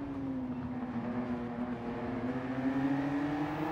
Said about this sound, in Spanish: Aquí la vista desde el coche del piloto del Ratón Racing, escuchamos el Peugeot Visión Gran Turismo.